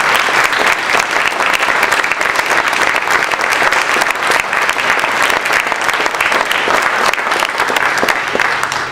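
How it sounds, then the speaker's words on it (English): An audience at a university award presentation claps continuously, a dense, steady wash of applause that stays loud and even throughout. "Let's give him a round of applause."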